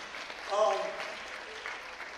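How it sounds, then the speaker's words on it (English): Fairly faint applause from an audience at an athletic awards banquet, a steady patter with a voice rising briefly over it near the start. "A round of applause to everybody in here."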